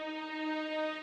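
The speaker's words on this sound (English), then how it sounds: "so I had this string" A sustained string layer holds a steady chord in a beat-making production, its stacked tones ringing evenly and alone for about a second at moderate loudness.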